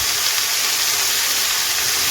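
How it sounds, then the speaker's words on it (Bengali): Bethe greens with two slit green chilies hiss and sizzle steadily in a pan as they are stirred continuously, a loud, even broadband frying sound with no talking. "তারপর 2টি চেরা কাঁচা লঙ্কা দিয়ে অনবরত নাড়তে থাকবো।"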